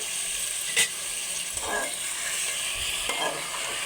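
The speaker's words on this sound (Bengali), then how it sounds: "এবার আলুটা দিয়ে দেব আলু ভালো করে একটু কষে নেব" Potatoes being stir-fried with peas in a pan for dhaba-style ghugni; a quiet, continuous sizzle with a few scraping stirs and one sharp utensil tap near the start, no talking heard.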